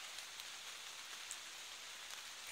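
Rain falling outdoors during a hunt, a faint, steady hiss of drops with occasional louder patters on nearby surfaces, continuous and alone.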